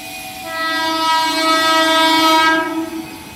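A KRL commuter train bound for Bogor pulling into an elevated station sounds a long, loud, steady horn blast over the rumble and clatter of the cars on the rails.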